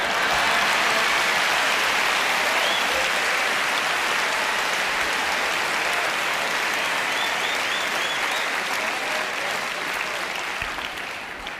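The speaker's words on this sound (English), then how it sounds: "Now you can clap." Sustained audience applause at a virtual magic convention, a dense wash of many hands clapping that stays loud and steady throughout before easing slightly near the end.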